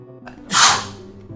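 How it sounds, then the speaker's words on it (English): A single loud sneeze, a sharp breathy burst that swells and fades over about half a second, close to the microphone with faint background hum. "Sorry, didn't expect to sneeze."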